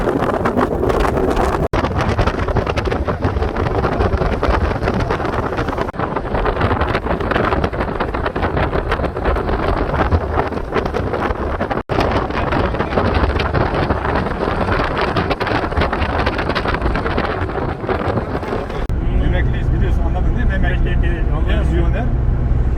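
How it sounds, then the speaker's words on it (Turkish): Strong wind buffets the microphone in a constant loud roar for the whole stretch, with brief muffled voices buried underneath. "Çok rüzgar şey olduğu için kapatayım yani."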